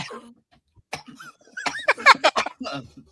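A person is caught in a coughing fit, bursts of harsh close coughs building into a rapid cluster, with a bit of throat noise between.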